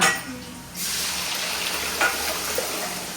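Ground masala paste of onion, tomato, garlic, ginger and coconut poured into a hot frying pan, a sudden steady sizzle rising after a quieter start and continuing close and even with a light utensil tap.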